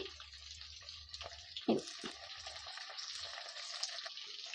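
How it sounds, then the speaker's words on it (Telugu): Coriander leaves and mint frying in a hot pan for a tamarind chutney, a steady close sizzle running throughout with a brief clatter near the middle. "దీన్ని కూడా ఫ్రై చేసేసుకుందాము"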